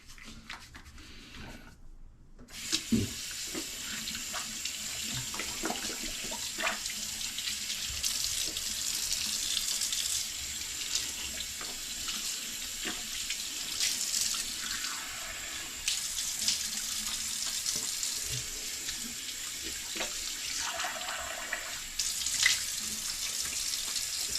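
Vintage Yardley soap is rinsed under a running tap, a steady hiss of water into a sink with splashes and shifts in the flow as the bar is turned, after a short silence at the start.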